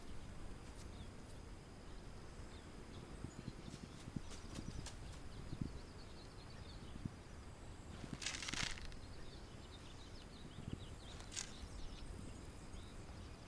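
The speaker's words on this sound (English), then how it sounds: "I swear I keep hearing horses." Faint horse hooves clip-clop at a distance in the survival game This Land Is My Land, a soft irregular patter over ambient outdoor noise with a brief louder rustle.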